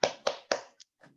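A classroom group claps a short rhythmic chant, three sharp, evenly spaced claps followed by a quick softer tap and a final light patter, close and crisp with no talking.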